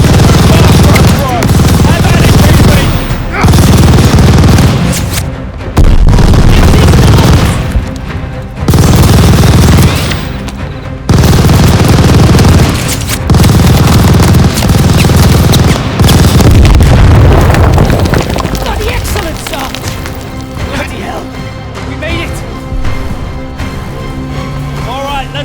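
Dense machine gun fire and heavy booming explosions from a World War II battle in the Call of Duty Vanguard campaign come in loud, sustained bursts separated by brief breaks, with shouted voices mixed into the chaos.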